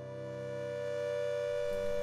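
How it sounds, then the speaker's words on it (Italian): An air raid siren sounds in Stepanakert during wartime shelling, a steady, sustained wailing tone that grows slightly louder over two seconds and plays on its own. "Improvvisa la sirena antiaerea."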